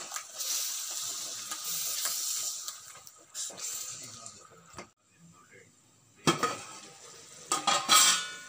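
Ground tomato stirred into a pan for Tamil thakkali kootu, spoon scraping and clattering against the metal with a faint sizzle, in uneven bursts and a louder cluster of clinks toward the end.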